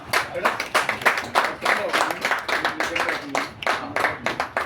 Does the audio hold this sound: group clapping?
yes